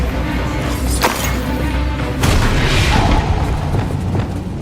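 Bombarda blast spells going off in a Hogwarts Legacy duel inside a closed mine: two loud, booming impacts about a second apart, with a third heavy crash later, set over constant rumbling game noise and no talk.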